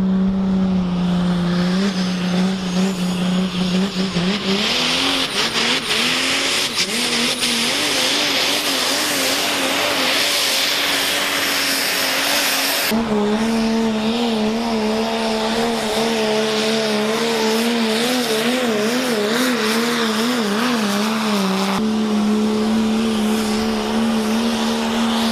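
Loud, sustained engine roar from heavy pulling trucks under strain, with pitch rising and wavering as they rev hard, continuous throughout with no talking.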